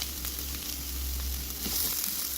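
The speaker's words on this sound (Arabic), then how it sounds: "غادي ندير هنايا واحد البصيله اللي عندي مشوطه" Chopped onion frying in oil in a pan, a steady close hiss of sizzling with faint crackles throughout, heard alone.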